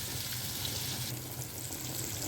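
Onions frying in hot oil for an Egyptian bessara dish, a steady soft sizzle that holds evenly throughout, fairly quiet and heard on its own without talk.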